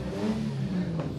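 A motorcycle engine revs up and holds at a steady, fairly loud drone for about a second, with a rising throttle surge near the end and no talk over it.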